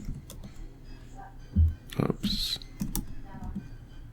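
Keystrokes on a computer keyboard sound as scattered, fairly quiet clicks and taps in irregular bursts, with a brief voice heard partway through.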